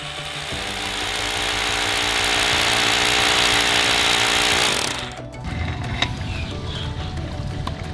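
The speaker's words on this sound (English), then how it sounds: "We've now drilled our holes" A power drill or hammer drill bores holes in the deck around a pool for fence sleeves, giving a loud, steady grinding roar for about five seconds before it stops, then lighter scraping and clatter follow.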